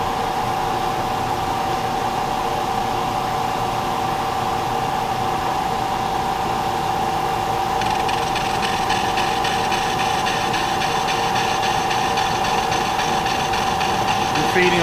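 Machine steadily cutting metal surfaces of an Alzmetall drill press vise, a continuous hum with a whine, and a brighter rattling texture entering about halfway through.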